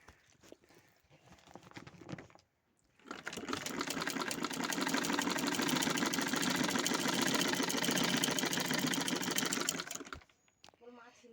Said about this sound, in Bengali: দেখো সেলাই হচ্ছে।